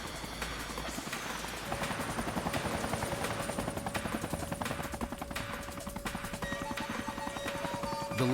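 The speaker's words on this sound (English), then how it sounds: "Craig struggles to keep the helicopter stable amid the sudden gusts" A U.S. Coast Guard rescue helicopter hovers over a fishing vessel during a hurricane, its rotor thudding in a rapid steady chop with a sustained engine whine, loud and close throughout.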